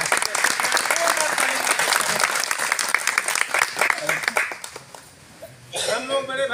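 An audience at a political gathering claps loudly in a dense burst of applause that fades after about five seconds, and then a voice speaks over the last of the clapping.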